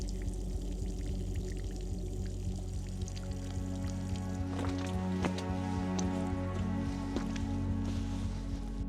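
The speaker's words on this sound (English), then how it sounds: "All that beading water off the face there." Steady trickling and dripping water splashes off a rock face in an abandoned mine over a constant rushing background, with scattered sharper drops standing out now and then.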